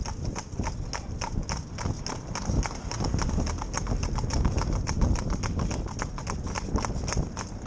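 Hooves of a pair of young Gypsy Cobs clip-clop in a quick, steady rhythm on hard ground, moving at a brisk walk in tandem, close and continuous.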